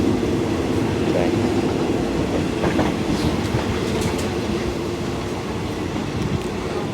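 A fairly old sleeper train rolling on rails between Hat Yai and Bangkok, with a steady loud rumble and a clickety-clack of wheels heard from inside the carriage, and no talking.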